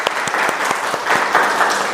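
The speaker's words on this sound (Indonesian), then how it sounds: "tepuk tangan untuk kita semua" Applause from a classroom of students during an Islamic religious education lesson, a fairly dense patter of many hands clapping steadily at close range, with a few sharper individual claps standing out.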